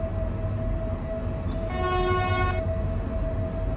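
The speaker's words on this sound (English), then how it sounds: "Nah, it needs a big American horn." A BR232 locomotive horn sounds once in the Train Simulator 2015 game on the Munich–Augsburg route, a steady tonal blast of about a second over constant rumbling engine and rail noise.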